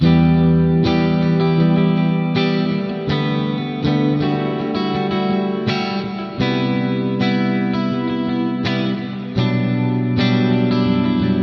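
Electric guitar strums a slow chord progression, each chord ringing out with effects-laden echo and chorus, changing roughly every one to three seconds.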